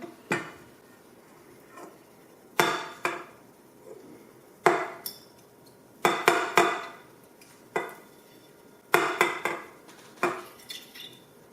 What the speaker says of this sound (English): We're going to pop that up and hot bowl. Scrape that in.